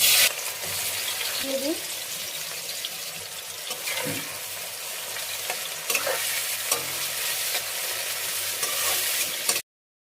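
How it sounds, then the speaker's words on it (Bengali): Onions frying in hot oil into beresta for chicken biryani, a loud dense sizzle with occasional stirring scrapes running steadily until it cuts off abruptly. "এখন বেরেস্তাটা ভাজে নিব"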